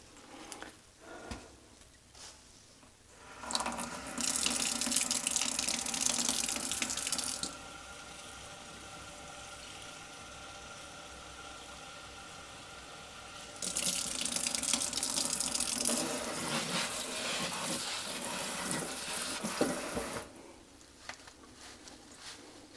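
Tap water runs into a container while filling it for a Scindapsus plant, a steady hiss that surges loud twice, about four seconds each, with quieter flow and small clinks between.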